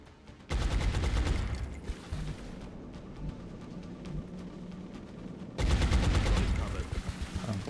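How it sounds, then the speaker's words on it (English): Suppressing gunfire in the strategy game XCOM Long War erupts in two loud bursts of rapid automatic shots separated by a quieter stretch with a murmuring voice, the volleys close and heavy. "Suppressing fire."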